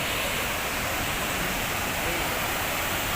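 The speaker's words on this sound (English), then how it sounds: "Mini waterfall." Steady broadband rush of a small waterfall at Hogenakkal Falls, continuous and fairly close, filling the whole stretch with no breaks or voices.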